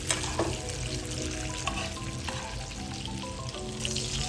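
Salmon sizzles in garlic butter in a frying pan with a steady, dense crackle and hiss throughout, close and moderately loud with small bubbling pops and no voices.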